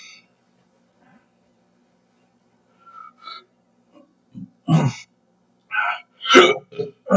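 Severe hiccups after eating jalapenos: a few short, sharp, gulping hiccups come close to the microphone, scattered unevenly between pauses and separated by quiet.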